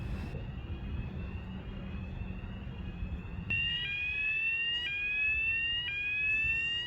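A hotel fire alarm sounds a loud, piercing electronic tone that turns into a repeating, regular pulsing pattern indoors, with no voices.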